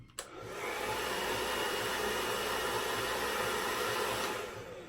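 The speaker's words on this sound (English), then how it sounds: "I did want to show you guys how much quieter the LUS blow dryer is" A LUS brushless hair dryer blows on its low setting with a steady, soft whoosh after a brief click at the start, running continuously without voices.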